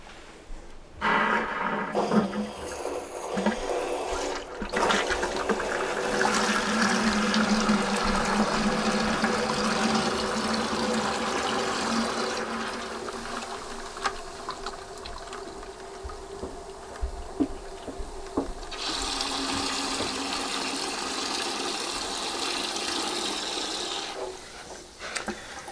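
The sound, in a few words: water and sediment gushing out of a water heater drain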